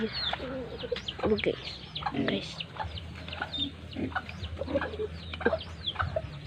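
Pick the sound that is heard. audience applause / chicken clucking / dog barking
chicken clucking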